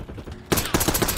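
Gunfire in a video game, a sudden burst of rapid, loud shots in quick succession after a brief quieter moment.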